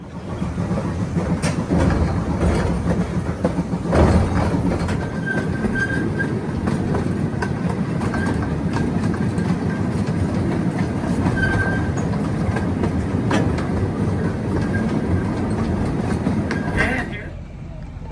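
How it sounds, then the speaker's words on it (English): Tourist park train ride at an Alabama state park, steady rolling rumble and clickety-clack of wheels on rails, close and continuous, with occasional faint squeals and brief voices in the background. "So we might ride in the train first, just to say we did it"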